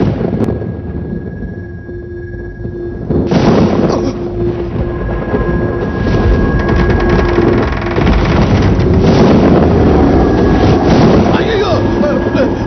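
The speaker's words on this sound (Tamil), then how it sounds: "என்னடா இவ்வளவு காத்து?" Strong wind gusts rush and roar against the microphone, a steady broadband blast with swells, while a person speaks over it.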